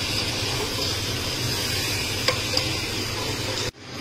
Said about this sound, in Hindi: जब ये दही मिक्स करता हूँ, ये देखो।